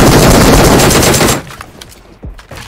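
Rapid automatic gunfire rips out loud and close in the video game PUBG Mobile, a dense burst lasting over a second before cutting off, leaving faint scattered shots and quieter game noise.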